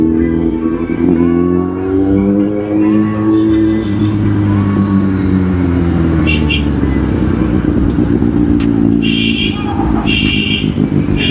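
A Kawasaki Z800 motorcycle rides through a crowded Ganpati visarjan procession, its engine rising and falling in revving sweeps amid dense crowd noise and scattered sharp sounds.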